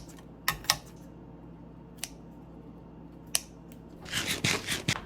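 Scissors snip through cooked bacon in a home kitchen, with a few separate sharp crisp cuts close by and then a quick rapid run of snips at the end.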